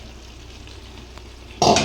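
Fried prawns dropped into a hot kadai, bringing a sudden loud burst of sizzling near the end after quiet kitchen background.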